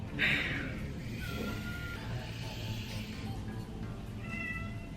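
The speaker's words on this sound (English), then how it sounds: "I have Loudmouth in the back with the cat, that's Reese." A cat meows loudly near the start, followed by quieter, drawn-out meows and whines over a low background rumble.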